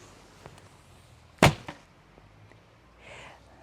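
A Korean traditional sport bow releases an arrow with a single crisp, loud crack and a brief follow-up tick, set against quiet surroundings with a soft hiss trailing off later.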